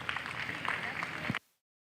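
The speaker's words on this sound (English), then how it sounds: "Let's give them a round of applause." A crowd applauds heifer exhibitors at the San Antonio 2024 breeding heifer show, with a steady burst of clapping that runs for over a second and then cuts off abruptly.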